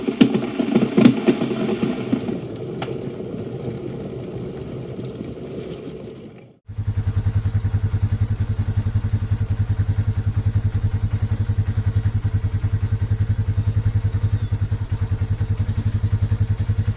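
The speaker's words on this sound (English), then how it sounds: "I'm going to start the bike up, let her run for a while" Lifan King motorcycle engine after an oil change and 3000-mile service: a startup, then a steady, close, loud idle with an even rapid thumping rhythm that continues unchanged to the end.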